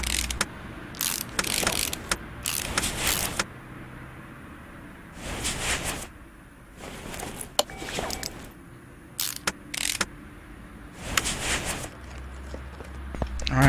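Ratchet wrench loosening bolts on a junkyard pickup truck in Car Mechanic Simulator 2018, heard as bursts of rapid clicking separated by pauses, with quieter mechanical clunks and taps between them.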